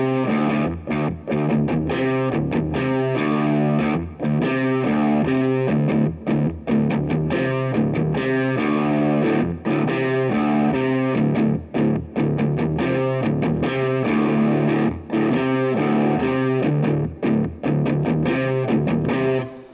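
Heavily distorted electric guitar plays a chugging, rhythmic riff from a song, loud and continuous with short choppy rests, no talking over it.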